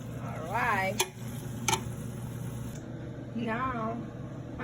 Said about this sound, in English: frying process just started.